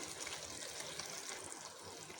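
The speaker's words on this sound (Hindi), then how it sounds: "पानी ऐड करेंगे तकरीबन इसमें 2 से 3 कप हम इसमें ऐड करेंगे" Water poured into a cooking pot of tinda gosht curry, a soft steady splashing pour, faint and continuous for a couple of seconds.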